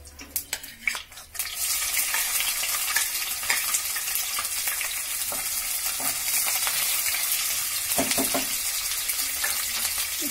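Onions frying lightly in a pan for soya biryani: a few sharp clatters of stirring at the start, then a continuous bright sizzle with scattered spatters and occasional scraping, close and steady, no voices.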